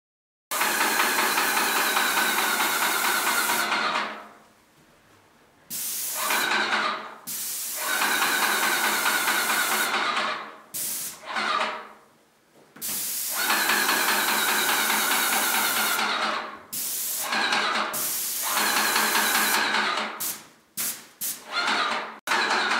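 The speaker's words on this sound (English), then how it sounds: "see how we go about spraying this interior emulsion paint onto the" A Graco ST MAX II 495 airless paint sprayer applies interior emulsion paint to walls, giving a loud, steady hissing spray in long bursts broken by short pauses, with no talking.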